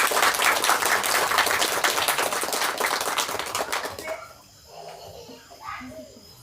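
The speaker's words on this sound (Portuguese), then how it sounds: "é para esse Cristo que nos libertou do demônio e do pecado que eu quero uma calorosa salva de palmas." A church congregation breaks into dense, warm applause that fills about four seconds before quickly dying away, leaving quieter room sounds and a voice.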